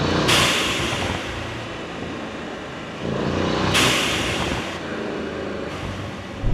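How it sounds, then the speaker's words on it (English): An upgraded AMG engine's blow-off valve releases pressure in two sharp hissing bursts a few seconds apart over a steady engine drone. "That blow off is really cool. Much more pronounced than the standard car."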